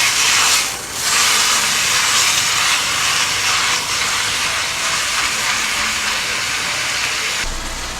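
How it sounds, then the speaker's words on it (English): Ground meat browns in a pan for lasagna, giving off a loud, steady, close sizzling hiss that runs unbroken for several seconds with no talking. "Okay, while that meat is browning"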